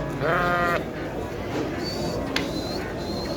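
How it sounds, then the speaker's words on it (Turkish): A sheep or goat at the Şarkışla livestock market, where small sacrificial animals are sold, lets out one loud, close bleat near the start. Market bustle, distant voices and faint chirps fill the rest. "Burada da tekeler var arkadaşlar."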